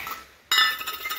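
Bowl clinking as food is put in for pet birds, a sharp bright clink followed by a few light rattling knocks, near and alone.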